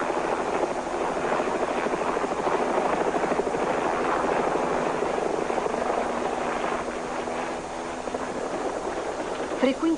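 Helicopter flying over floodwaters on a rescue mission, a steady loud rotor thump and engine drone running continuously throughout, with a voice speaking over it.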